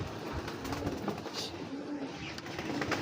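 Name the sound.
racing pigeons cooing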